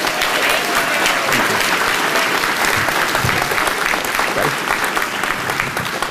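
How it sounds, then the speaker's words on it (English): Loud, sustained clapping from a sizable audience, a dense continuous patter that holds steady for several seconds. "really, really give a nice round of applause for Ms. Valerie Staples."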